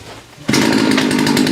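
A chainsaw used to cut down a Christmas tree starts after a quiet moment and then runs at a loud, steady, buzzing high rev, close to the microphone.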